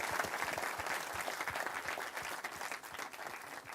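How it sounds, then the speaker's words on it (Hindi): Studio audience applauding a guest on a talk show, a loud, continuous burst of many hands clapping close by with no voices over it. "तो एक बार फिर गौड़ साहब के लिए बहुत तालियां।"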